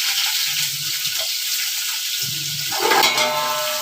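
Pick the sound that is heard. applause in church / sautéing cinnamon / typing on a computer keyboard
sautéing cinnamon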